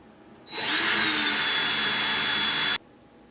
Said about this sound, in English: Now I'm just going to hold a nice firm tension with my drill and twist.